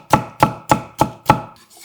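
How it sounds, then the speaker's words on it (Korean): A knife chops a cucumber into thin, even julienne strips on a cutting board: five crisp, evenly spaced strokes, close and loud, with nothing else heard. "같은 두께로 채 썰어주세요"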